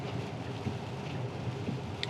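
Steady rain hiss on a Tesla running FSD Beta 10.3.1 while driving through a rainstorm, a continuous broadband wash with faint road rumble underneath and no voices.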